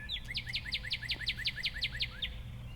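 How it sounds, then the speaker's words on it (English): A cardinal repeats a bright, clear whistled call about a dozen times in quick, even succession, loud and close over a low background hum. "Yes, it's a bright red cardinal."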